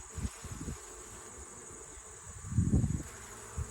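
Honeybees buzz faintly around an open beehive during an inspection, a thin steady drone with soft low thumps and handling noises, one louder swell near the end.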